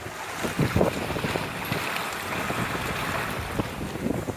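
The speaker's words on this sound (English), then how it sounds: "We're having to tack a good bit because, of course, the wind is coming from where we're going." A sailboat beats into a headwind off the Bahamas while steady wind rushes over the microphone and waves wash against the hull, constant and fairly soft with no one talking.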